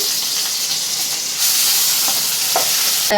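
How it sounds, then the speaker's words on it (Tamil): Onions and curry leaves frying in oil: steady sizzle and frying hiss, loud and continuous, with a few soft stirring clinks near the end. "அப்படியே வெங்காயம் சேர்த்துடலாம், கருவேப்பிலையும் போட்டுடலாம் எண்ணெயிலேயே."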